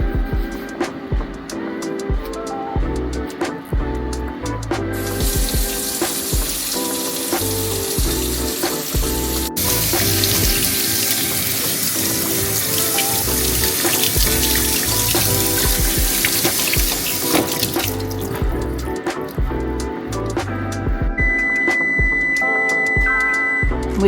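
Tap water runs steadily into a kitchen sink as fruit is washed with a little baking soda, a continuous broadband rush that holds from start to finish with no voices over it.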